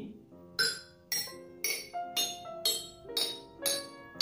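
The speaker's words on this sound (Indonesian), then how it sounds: "dari pukulan-pukulan mulut botol ini" The mouths of glass bottles are struck one after another, giving eight bright, ringing clinks at an even pace, each with a short tonal ring and a different pitch, like a homemade bottle instrument.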